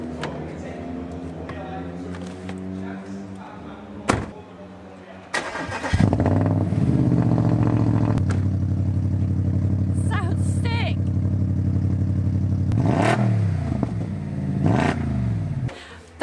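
A wrecked Audi RS5 engine cranks, catches and settles into a steady rumbling idle, with a couple of blips of the throttle, heard up close and loud.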